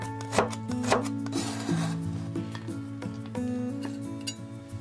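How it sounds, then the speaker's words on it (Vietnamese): A knife chops ginger into thin strips on a cutting board, giving a few sharp knocks among clinks while tonal background music plays throughout. "Còn lại 1/3 mình cắt sợi như vậy."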